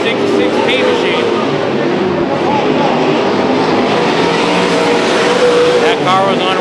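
Race car engines roar continuously at Chowchilla Speedway during a heat race, a loud sustained drone with pitch sweeps as cars pass, while an announcer talks over the engine noise throughout.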